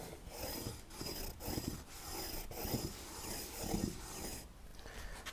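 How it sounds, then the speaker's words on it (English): A metal square is rubbed back and forth across the surface of a hand-cut timber frame tenon, giving a steady raspy scraping with rhythmic strokes, close and continuous, no talking. "I'm just scraping my square around on the surface, and it very clearly marks the high spots."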